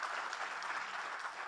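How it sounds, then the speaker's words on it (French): An audience applauds Mariam at a tech-for-good event, steady and fairly soft clapping from a crowd that holds evenly throughout with no voices. "Alors, on applaudit Mariam"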